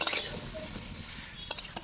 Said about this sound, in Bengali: আলুটা আমি 10 মিনিটের মতো কষবো